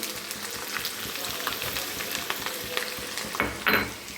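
Chopped garlic and ginger frying in mustard oil for a mango pickle, an even crackling sizzle up close with occasional louder spatters and stirring near the end, without talk.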